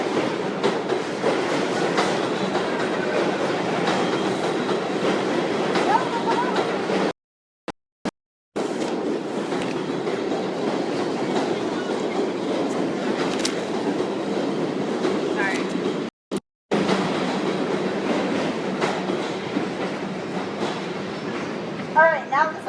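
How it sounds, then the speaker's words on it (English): A subway train rumbles past with continuous clattering wheel noise, loud and close, broken by a few brief dropouts as it goes by. "All right, now the subway's passed."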